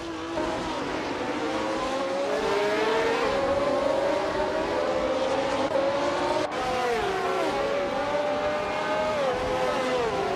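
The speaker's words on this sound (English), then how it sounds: "It looks like the F1 1971 cars are fairly evenly matched on this circuit" F1 1971 race cars scream around a circuit in a racing video game, several high-revving engines layered together, pitch rising through the gears with a sharp shift midway, loud and continuous.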